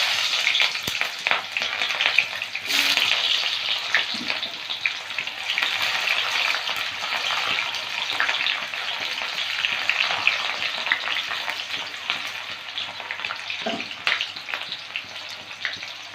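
Chopped onions fry in a pan, sending up a strong, steady sizzle with bursts of crackling and a few utensil knocks, close and loud.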